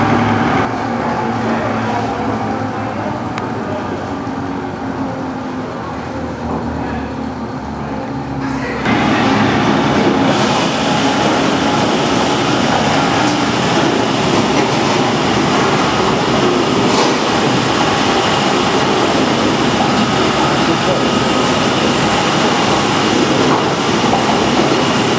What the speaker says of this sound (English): Starts up, it starts in forward and automatically stops and reverses for a few RPMs to clean out the chamber.